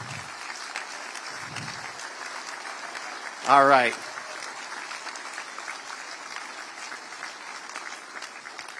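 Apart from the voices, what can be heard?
applause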